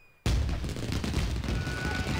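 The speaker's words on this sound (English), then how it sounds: "But we have beautiful fireworks." Fireworks in the video game Okami burst suddenly after a quiet moment, then crackle and boom in a dense, continuous barrage close at hand, with no talk.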